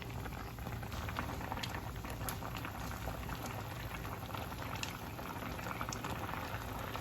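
A pot of shrimp broth for sinigang bubbles at a steady, rolling boil, with dense popping and gurgling close by and no talking.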